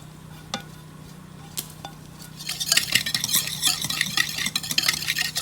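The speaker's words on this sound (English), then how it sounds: "pour all of these dry ingredients into this bowl and whisk them" Dry ingredients for a corn pudding, including sugar, salt and pepper, whisked in a bowl, starting with a few light taps then building into a brisk, steady scratchy whisking, close and without speech.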